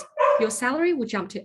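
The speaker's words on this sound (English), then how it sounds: "that is my dog barking in the background." A dog barks in the background of an indoor online talk, with short yips and bow-wow sounds mixed under a man's steady speech.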